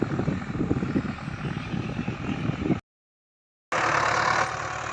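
The heavy engine of a Ford 5000 tractor plowing hard, dry soil drones loudly and steadily, cuts to silence for about a second, then resumes at similar strength.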